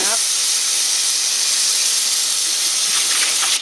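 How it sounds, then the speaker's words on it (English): Thai sweet pork sausage frying in hot oil, a loud, dense, continuous sizzle and hiss that stays steady throughout, close to the microphone, with no talk. "Now frying."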